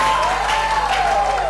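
A congregation at a Pentecost church service applauds, with a steady wash of clapping and a little cheering, loud and continuous throughout.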